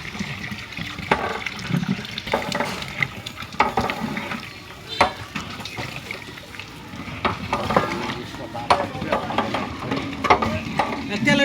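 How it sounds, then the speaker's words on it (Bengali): Rice flour pituli being stirred in a cooking pot, a steady scraping and swishing with soft sizzling and bubbling, close and continuous with irregular louder strokes throughout. "চাউলের গুঁড়া দিয়ে পিটুলি তৈরি করা হচ্ছে এখন।"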